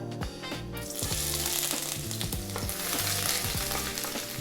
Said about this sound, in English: Next up, we're going to drop in our garlic and ginger.